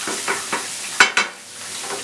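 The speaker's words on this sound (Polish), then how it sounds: "Pieczarki już się usmażyły prawie, prawie że" Soft sizzling of mushrooms frying in a pan, with a few scraping stirs and a couple of sharper clatters close by.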